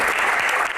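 Audience applause at a Q&A session with a singer, a short, steady burst of dense clapping that fills the whole moment without letting up.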